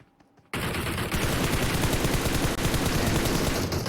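Gunfire in PUBG Mobile during a competitive match: after a brief quiet start, dense rapid automatic shots burst in loudly and continue as a sustained rattling barrage.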